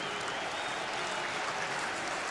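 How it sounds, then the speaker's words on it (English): A stadium crowd at an India versus Australia cricket test match gives a dense, continuous roar of cheering and booing that fills the whole stretch at an even level. "The boo is for the people, and the cheer, I think, is for the fact that they may have caught them."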